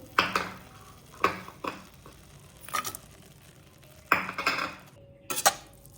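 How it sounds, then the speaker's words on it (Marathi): A utensil stirs beetroot and jaggery halwa in a metal pan, making five or six short clanking, scraping bursts spaced about a second apart. They sound close and moderately loud over a faint background, with no talking. "चांगलं चाळून घेऊ आणि 5 मिनिट झाकण ठेवू याच्यावर."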